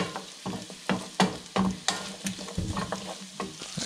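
Scallops cook in a pan with garlic and a soft sizzle, broken up by irregular clicks and scrapes of a utensil moving and seasoning them, fairly quiet and close.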